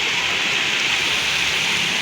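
Heavy rain pours down on a street in Lahore, a dense, steady hiss of falling water with no breaks, loud and close throughout.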